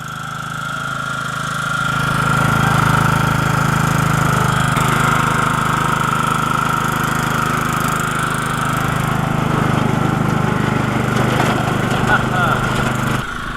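A tractor engine drones throughout at close range on a farm, a continuous rumbling idle that stays loud and even.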